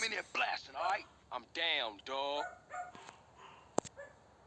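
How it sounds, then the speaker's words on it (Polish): A dog in a GTA San Andreas gameplay session barks repeatedly in sharp, loud yips and bow-wows, some whimpering in between, close and clear over a quiet background. "Jeżeli słyszycie jakieś szczeki, to przepraszam was."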